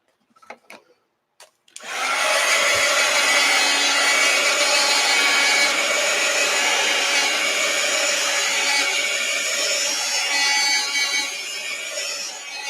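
After a few light clicks, a hair dryer switches on and blows steadily and loudly over the painted cover of an art journal, a continuous whooshing whine that holds to the end.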